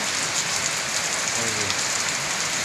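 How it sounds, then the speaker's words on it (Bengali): Heavy rain falls steadily on a rural Bengali village under an overcast sky, a dense hiss of drops on surfaces filling the whole clip, with a brief faint low tone partway through. "খুব বৃষ্টি হইতেছে আর আকাশ মেঘলা"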